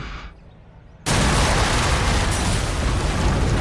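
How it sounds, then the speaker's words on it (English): A big explosion in the video game Trails through Daybreak 2 bursts in suddenly after a second of quiet, a loud broadband blast that stays as a sustained roaring rumble to the end. "An explosion? And a big one."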